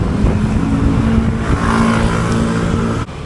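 Motorcycle engine revving on a long ride, a loud rough roar that swells in the middle and holds steady before dipping sharply near the end.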